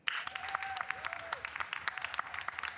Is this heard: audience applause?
yes